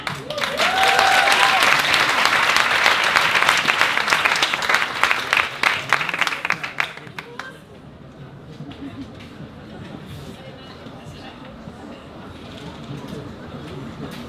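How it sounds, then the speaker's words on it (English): An audience applauds loudly in a talk setting for about seven seconds, dense clapping that then fades out into low room noise and faint murmuring. "And give a grand applause to Emma."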